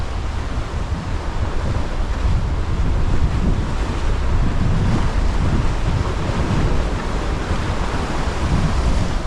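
A strong easterly wind roars steadily across the beach at Oxwich Bay on the Gower, buffeting loudly and without a break, with surf churning underneath.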